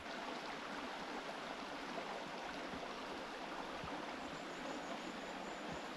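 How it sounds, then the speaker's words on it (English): A river flowing past a campsite, a steady close rushing and gurgling of water that runs without pause, with no voices over it. "It's going to be so nice sleeping listening to the river."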